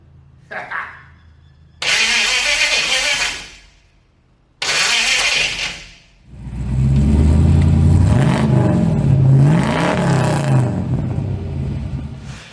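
A V8 engine swapped into a Holden HT cranks in two short bursts, then catches and runs, rising into loud revs that swell and fall close by.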